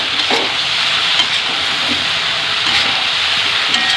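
Jujube fruits sit in very hot oil with turmeric in a wok, giving a loud, continuous hissing sizzle with faint crackles and pops throughout.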